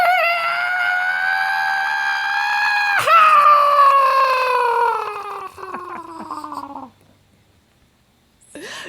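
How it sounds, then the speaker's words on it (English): A space banshee's hideous scream: a long, loud, wavering wail that holds steady, jolts sharply, then slides downward and breaks off, followed by silence and a brief final shriek. "The space banshee's most defining trait is its hideous scream."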